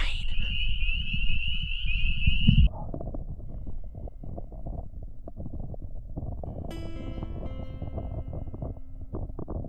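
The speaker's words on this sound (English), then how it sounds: "Listen to those frogs." Frogs croak in a wet lake setting at a canoe campsite in Algonquin Park, Canada, a steady low rattling chorus running throughout, with a brighter tonal burst early on and faint whistles later.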